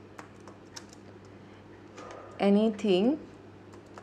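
Light, sparse keyboard clicks as someone types a Fiverr gig title on a computer, with a short spoken phrase briefly rising over the tapping.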